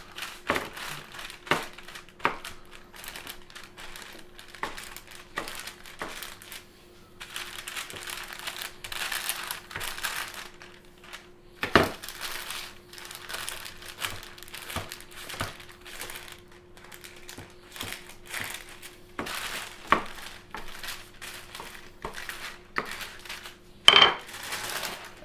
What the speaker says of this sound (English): You want it as flat as possible in the pan. And just like smoosh it out.